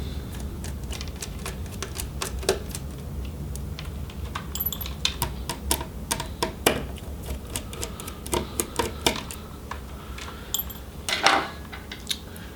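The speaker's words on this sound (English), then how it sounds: "remove the two Phillips head screws around the bezel" A screwdriver works Phillips head screws out of a Lenovo ideapad Flex 5 laptop bezel. Close, irregular small clicks, ticks and plastic taps sound in uneven bursts over a quiet background, with no talking.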